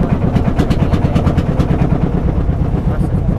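A boat engine chugs steadily while crossing the Mahananda river, a loud close low throbbing putter with rhythmic pulses, and a voice speaks briefly over it.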